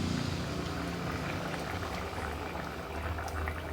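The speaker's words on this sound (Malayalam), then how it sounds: "മീൻ ചേർത്തതിൻ്റെ കൂടെ ഒരു മൂന്ന് നുള്ള് കുരുമുളക് പൊടിയും കൂടി ചേർത്ത് അടച്ച് വെച്ച് ഒരു നാലഞ്ച് മിനിറ്റ് തിളപ്പിക്കാം" Pomfret fish curry seasoned with pepper bubbles in a covered pot, giving a dense, steady boiling hiss and gurgle that sounds close and unbroken.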